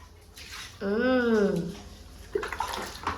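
Water splashes and runs over a dog's back paws during a wash, with a drawn-out whining, voice-like tone rising in the middle and brief human voices near the end.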